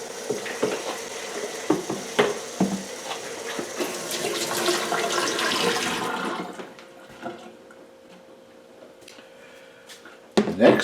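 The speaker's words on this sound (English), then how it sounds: "I'm just going to rinse this out." Tap water runs hard into a container being rinsed while making feta cheese, with knocks and clinks of handling. Then the flow stops, leaving a quieter stretch that ends in a loud clunk.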